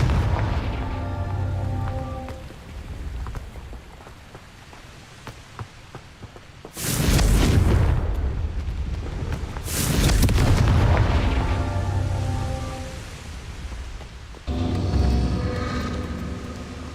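Confringo fire-blast spells cast in Hogwarts Legacy, several loud explosive bursts a few seconds apart that each hit hard and die away into a crackling rumble over quieter game ambience.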